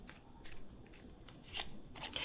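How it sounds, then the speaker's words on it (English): Scissors trim frayed bits of crepe paper for a holiday magnolia craft, giving a quick series of crisp snips and light paper rustles close up, faint and alone. "Go ahead and use your scissors and just clean that up."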